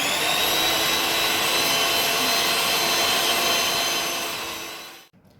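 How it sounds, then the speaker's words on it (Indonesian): An electric mixer kneading donut dough, a loud, steady motor whine with a constant hum that runs unbroken before winding down and cutting off at the end. "Kita mixer lagi sampai benar-benar kalis."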